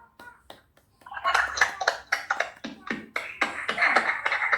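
A group claps for a team of students during a university teacher-training class session at Universitas Tadulako, a loose, irregular patter of many hands that starts after a brief pause and keeps going steadily to the end.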